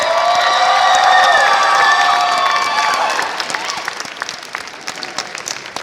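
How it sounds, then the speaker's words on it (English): Loud applause from a crowd at a cosplay contest at VisionCon 2022, with cheering and whoops, the clapping thinning out to scattered claps toward the end. "Give another round of applause for our wonderful cosplay contestants!"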